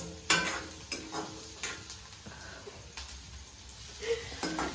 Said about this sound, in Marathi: आपण पहिले तर आपला कांदा शिजवून घेते